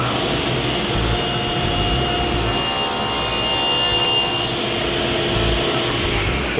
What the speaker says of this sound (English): now I've got to make my skinny rip for the front and the sides